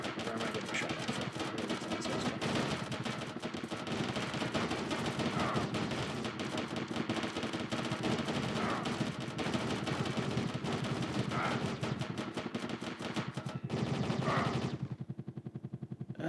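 Continuous rattling machine-gun fire in the Sega Saturn game Soviet Strike, dense rapid shots aimed at the player lasting almost without pause before cutting off abruptly near the end.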